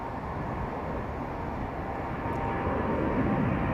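An aircraft departing Heathrow at full power gives a broad, steady low roar that swells slightly over a few seconds, at a moderate distance.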